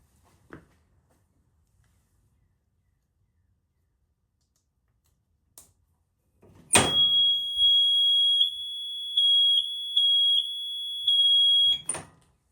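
A vintage Yamaha golf cart's electronic warning beeper blares continuously for several seconds, pulsing slightly in steady rhythm, after a few faint clicks and handling noises.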